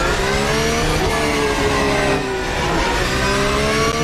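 A Porsche 911 GT3 R race car engine in a racing video game revs loud and close, its pitch climbing and dropping through quick gear changes as the car pulls away from the pits.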